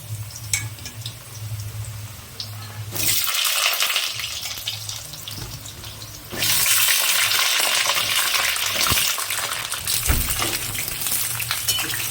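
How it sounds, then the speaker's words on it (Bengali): Potatoes hitting hot oil in a wok sizzle and hiss loudly, the frying swelling in two stages as more pieces go in, with a steady crackling wash throughout and no talking. "মাংসের আলুটা ভাজার জন্য কড়াইয়ে প্রথমে তেল দেওয়া হয়েছে, তেলটা ভালো করে গরম হয়ে গেছে। এরপর আলুগুলো দেব।"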